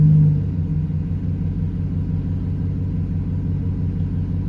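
A Chevrolet/GMC truck engine, from a Silverado, Sierra, Tahoe, Suburban or Yukon, idles with a steady low rumble that stays even and continuous from start to finish, with no talk over it.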